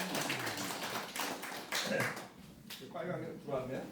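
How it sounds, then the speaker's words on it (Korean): A small audience at an interreligious seminar held in a church claps to welcome a pastor as speaker, with quick, moderately loud clapping over the first couple of seconds that then gives way to talking. "큰 박수로 모셔주시겠습니다."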